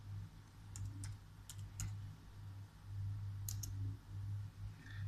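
Keystrokes on a computer keyboard, a few scattered clicks in short bursts over a steady low hum, fairly faint and close.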